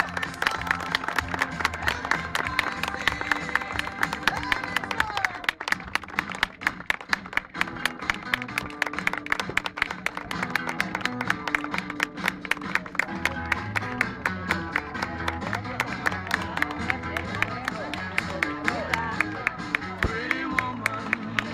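An audience at a junior dance competition keeps up long, steady applause with scattered crowd noise, the clapping rhythmic and close over loud music and occasional voices throughout.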